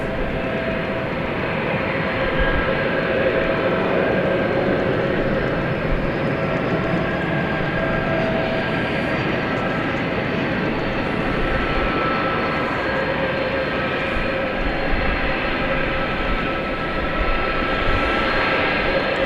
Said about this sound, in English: this Airbus A300 is on its way to Ontario, California